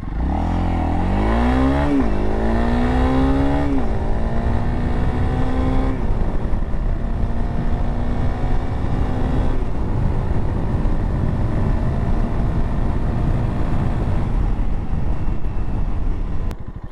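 A Honda CRF300L dual sport motorcycle accelerates from a stop to 60 mph on a slight uphill, its engine loud and close as it revs up through several gear changes and then settles into a steady drone.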